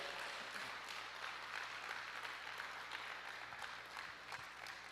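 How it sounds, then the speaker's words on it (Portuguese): Congregation at a church service applauding, a steady wash of many hands clapping at moderate level and somewhat distant, continuous and without a break. "Você pode aplaudir o Senhor?"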